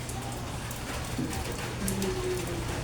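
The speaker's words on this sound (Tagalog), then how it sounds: "Umuulan guys, umuulan." Rain falls outside a house by a koi fish pond, a steady, dense patter of drops on surfaces, close and continuous, with faint tonal background sounds mixed in.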